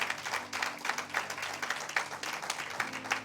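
A crowd at a church service clapping steadily, a dense patter of many hands that keeps going throughout, with faint sustained tones underneath.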